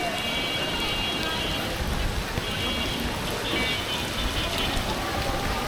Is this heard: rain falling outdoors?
yes